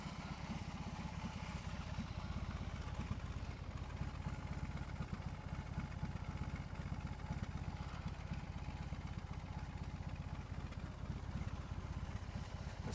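2022 BMW R18 Classic motorcycle engine idling, a steady low, faint throbbing rumble with an even pulse, continuous and unchanging throughout with no talk.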